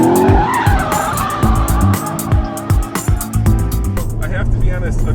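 A 2014 Chevy Corvette Stingray's tires squeal and skid on a slippery surface during a hard launch, rising engine revs close by and loud, with someone talking over it.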